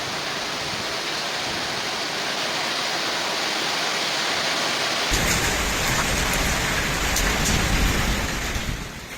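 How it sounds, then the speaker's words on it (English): Torrential rain pours down during a severe storm in Italy, a dense, steady roar of water that swells heavier and closer midway through and stays loud throughout with no voices. "The storm produced torrential rainfall"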